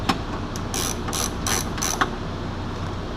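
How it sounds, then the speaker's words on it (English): A 10 mm ratchet undoes the door panel bolts on a Porsche 986 Boxster, giving several quick close bursts of rapid clicking, with short pauses between bursts. "now we got to undo the upper holds. You see Ryan here's got a 10 millimeter"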